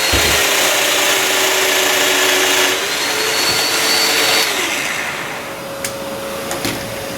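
A power tool cuts a wood tenon for a custom nesting coffee table, a loud steady whine running continuously for several seconds before easing slightly toward the end.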